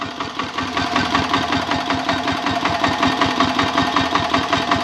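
A VST power tiller engine running close by, a loud, steady, rapid chugging pulse with a mechanical rattle throughout.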